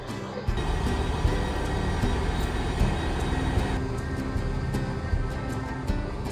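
Steady rumble of a Transport for Wales passenger train in motion, with rhythmic clacks and rattles over a continuous low roar from inside the carriage.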